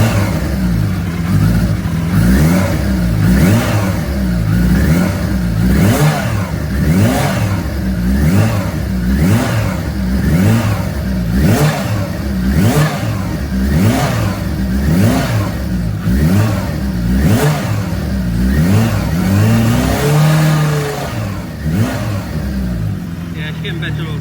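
A 300 BHP Kawasaki H2 motorcycle engine revs up and down in a steady, repeating rhythm, loud and close, each rise and fall of the throttle sharply defined with no one talking over it.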